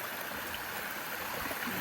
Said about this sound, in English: stopped and got some water here at Ivy Creek.